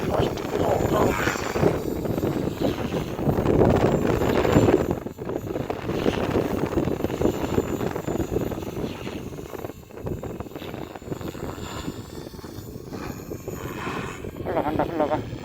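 An RC helicopter flying stunt manoeuvres in strong, gusty spring wind, its rotor and motor whine rising and falling under heavy wind buffeting on the microphone, loud and close, with someone talking at times.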